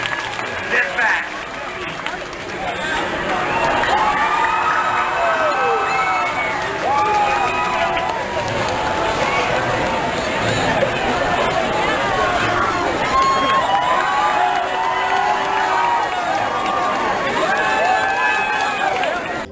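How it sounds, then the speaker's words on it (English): Guests in the queue for the Goliath roller coaster at Six Flags Over Georgia cheer and applaud, a steady, dense crowd noise of claps and voices filling the whole stretch. "As guests in the queue applauded"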